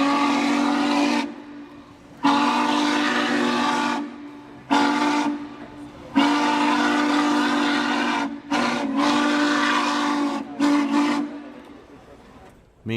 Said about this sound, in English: you could also get an opportunity to blow 611's whistle